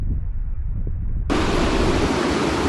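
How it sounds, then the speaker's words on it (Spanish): Meltwater from a melting glacier rushes in a loud, steady broadband roar that suddenly brightens and swells partway through, with no voices. "Eso que se escucha es el agua y la fuerza con la que se está derritiendo el glaciar"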